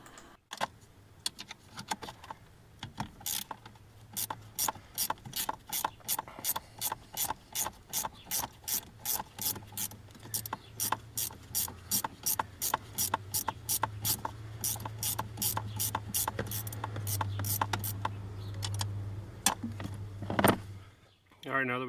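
A ratchet clicks steadily while backing a bolt out of the brake pedal of a 2011 Chevrolet Suburban, fast and close, with repeated rapid pawl ticks over a low hum.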